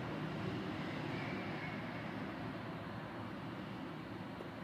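A CN freight train of box cars, coil cars and auto racks rolls past near Oakville GO station, giving a continuous broad rumble and rattle that stays steady throughout.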